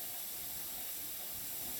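A pressure canner vents a steady, continuous hiss of steam, even and unbroken with no voices over it, while chicken and vegetables are canned.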